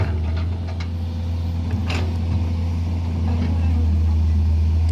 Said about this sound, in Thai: เครื่องยนต์ของเขานี่ ยังไม่มีควันนะ